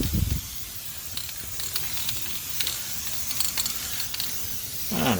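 A steady aerosol spray hisses in bursts, with faint mechanical clicks behind it and a brief louder rustle near the end.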